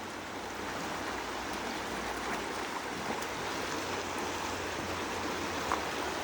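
Fast-moving stream water rushes and splashes steadily and close, a dense continuous broadband wash with no voices.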